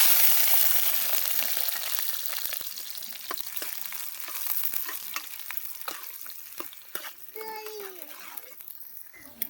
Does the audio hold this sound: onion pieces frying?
yes